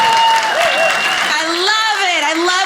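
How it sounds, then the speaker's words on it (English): A stand-up comedy crowd breaks into loud applause for the comedian, mixed with rising whoops and cheering voices that carry over the clapping. "I love when people applaud for me doing nothing"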